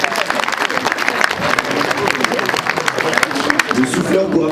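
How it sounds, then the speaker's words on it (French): Audience at a horror festival applauding a quiz winner, dense clapping from a crowd mixed with cheers and voices throughout, loud and close, with a voice rising near the end. "bravo, on peut l'applaudir"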